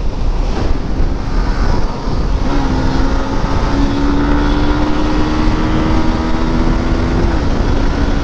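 A sport motorcycle revs hard at high rpm during a highway race between a Suzuki Gixxer Monotone and a 2022 Honda Hornet CBS. Its engine note climbs and holds steady under loud, constant wind roar, with no talk.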